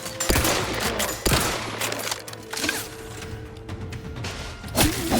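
Gunfire in the video game Outer Worlds 2: sharp shots and short bursts crack out at intervals over a low background hum, with a heavier blast near the end.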